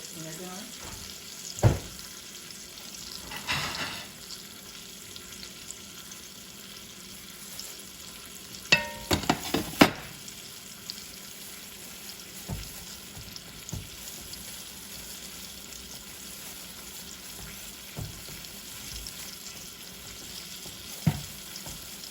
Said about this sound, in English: each side has to be seared